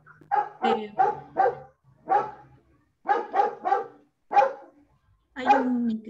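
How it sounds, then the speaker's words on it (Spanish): A dog barks repeatedly in short, loud bursts, several yelps in quick clusters with brief pauses between them, close to the microphone, with no talk over it. "hay un perro ladrando"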